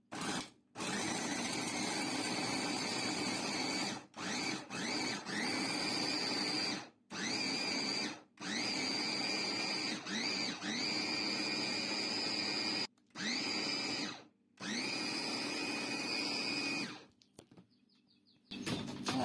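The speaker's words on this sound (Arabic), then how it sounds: "غنطحنو في هاد الماكينه هادي" Electric grinder shredding mozzarella and red cheese, running in repeated loud whirring pulses with brief silent gaps between them, close up and with no talk.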